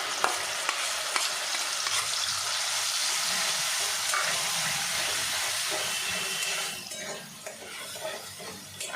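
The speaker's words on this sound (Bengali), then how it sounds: "এটা ভালো করে একটু কষিয়ে নেব।" A paste of coconut, cashew, melon seeds and raisins sautés in hot oil, with a steady close sizzle broken by scraping stirs and a few sharp clicks, easing off near the end.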